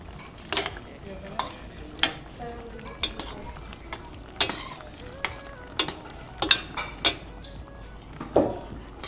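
Fish stirs in a curry sauce in a pot, with soft simmering under repeated scrapes and clinks of a utensil against the pan, quiet and close, at an irregular rhythm.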